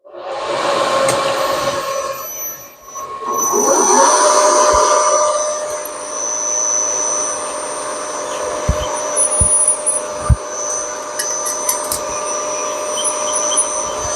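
A milling machine runs on power feed, cutting across an engine cylinder block in steady back-and-forth passes. The motor hums continuously and loudly, with a few sharp ticks of cutter contact near the end and no talking.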